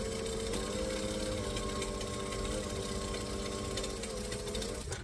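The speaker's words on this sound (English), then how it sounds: "I'm going to top stitch the bottom edge so it looks pretty" Sewing machine running steadily while top stitching the bottom edge of a fabric tote bag, a loud continuous mechanical whir and rapid needle clatter lasting nearly the whole stretch before stopping abruptly at the end.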